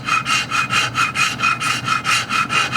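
A metal scraper is pushed in steady, even strokes to scrape an old gasket off a metal surface, making a repeated rasping scrape about four times a second, close and loud, with no talking.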